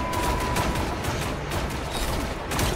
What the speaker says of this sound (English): there's someone shooting down there